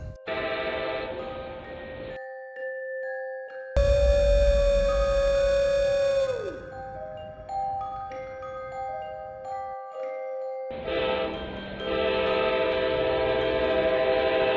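A loud train rumbles past in Texas with several long, blaring horn blasts, one dropping in pitch as it passes, then resuming close by.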